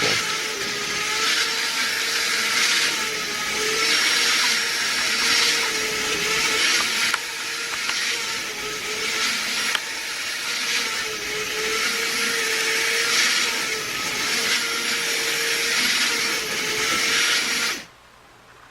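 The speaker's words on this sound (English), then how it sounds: "So now let's see if I can turn the turntable." An OO gauge model railway turntable rotating with a long locomotive aboard gives off a steady, fairly loud motor whir and hum that runs unbroken for about seventeen seconds before cutting off.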